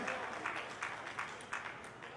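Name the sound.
audience applause at a poetry gathering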